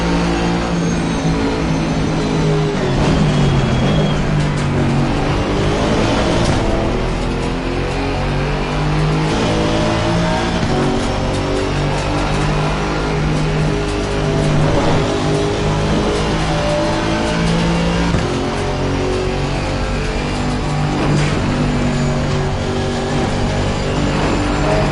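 A GT4 race car in Assetto Corsa Competizione at Bathurst, its engine droning and revving hard through gears for a sustained stretch, with loud, continuous engine roar and occasional tire noise, no voices.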